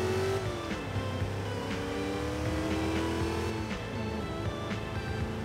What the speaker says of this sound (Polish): bardzo fajnie brzmi ten Jeep CJ